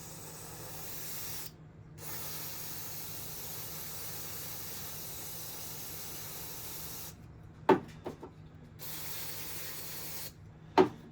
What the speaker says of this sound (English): So this is the mass airflow cleaner.